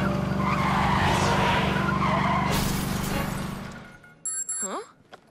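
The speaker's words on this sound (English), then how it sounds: "a car's skidding out of control in the middle of the highway" Cartoon car skidding out of control on a highway: a long, loud screeching skid with engine roar swells and fades over several seconds, then a short, bright cartoon slide-whistle and chime flourish ends it.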